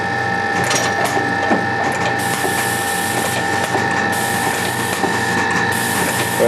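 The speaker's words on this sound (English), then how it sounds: "Now the elevator's going down, it'll automatically index in the next loaded magazine that's just sitting there waiting." A thermal fuse solder assembly machine's elevator lowers and indexes the next loaded magazine, giving a loud, steady mechanical whir with rattling, ratcheting clicks and tonal hums.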